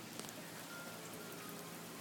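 Heavy rain pours down steadily outdoors, a dense, even hiss of drops drumming close by with no breaks and no voices.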